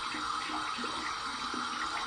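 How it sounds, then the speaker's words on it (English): Warm tap water runs steadily over a shaving brush being rinsed clean, a continuous close splashing flow with no pauses. "Just gonna run it under some warm water,"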